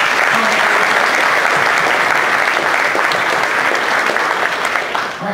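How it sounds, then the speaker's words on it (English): An audience at a technical talk applauds after a presentation: loud, dense, sustained clapping that holds steady for several seconds before easing slightly at the end. "All right, a quick round of applause for Juan."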